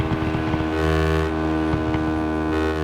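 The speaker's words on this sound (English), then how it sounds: "the scooters still just sound like they're on even when you go off accelerator" Scooter engines drone and whine continuously in the RIDE 6 racing game, a steady buzzing mix of several motors holding a constant pitch with slight wavering, loud and close throughout.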